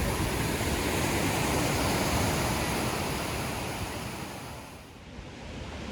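Nantcol waterfall and river rushing in a continuous, loud, broad roar of falling and flowing water, steady throughout and easing slightly near the end, with no voices.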